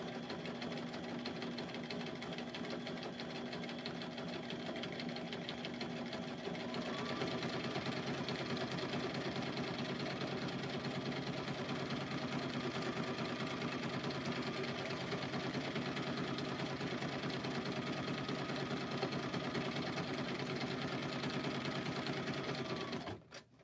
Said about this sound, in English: My sewing machine's on a TV stand.